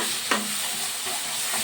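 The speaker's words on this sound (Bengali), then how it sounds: "পেঁয়াজটাকে ভালোভাবে তেল ছাড়া পর্যন্ত আমি কষিয়ে নিচ্ছি" Onions frying in oil in a pan, a steady close sizzle with a spatula scraping and stirring through it, one sharp scrape near the start, fairly quiet and without talk.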